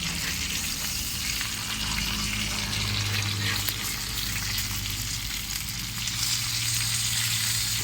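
Kanangkeluthi fish frying in a pan, a loud continuous dense sizzle held steady for several seconds with no voices over it.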